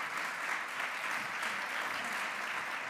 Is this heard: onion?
no